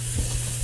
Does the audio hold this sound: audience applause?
no